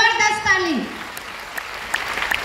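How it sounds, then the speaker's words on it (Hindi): Applause from an audience at a DXN business meeting, steady clapping that swells beneath a loud voice speaking at the start and carries on alone afterward. "जबरदस्त ताली"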